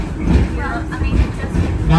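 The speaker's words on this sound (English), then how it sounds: "Now the locomotive pulling our train today is called the Torch Lake" The 1873 Torch Lake steam locomotive pulls a passenger train on the Greenfield Village Railroad, a close rolling rumble with faint rhythmic clatter under a talking voice.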